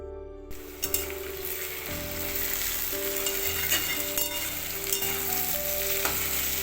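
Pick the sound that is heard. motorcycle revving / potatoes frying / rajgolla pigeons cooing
potatoes frying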